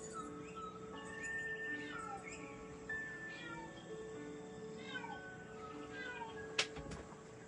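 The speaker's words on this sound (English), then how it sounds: "I heard some unusual meowing." A cat meows repeatedly nearby, a series of drawn-out, wavering cries with short pauses between them, over a faint background hum.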